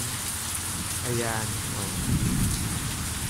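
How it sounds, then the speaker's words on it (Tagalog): Steady rain pours outside a house in Barangay Dalig, Kalinog, Iloilo, Philippines, a dense continuous hiss with a low rumble building toward the end, while a voice briefly speaks over it. "Tingnan nyo naman ang ulan."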